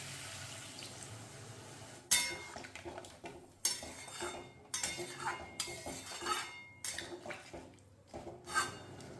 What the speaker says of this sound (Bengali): জল দিয়ে ভালো করে নেড়ে মিশিয়ে নিলাম